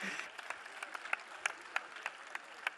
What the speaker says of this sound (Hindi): अग्रिमा के लिए जोरदार तालियां हो जाए भाई।